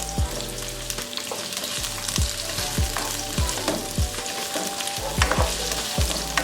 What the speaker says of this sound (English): Now I'm going to add the sweet pepper.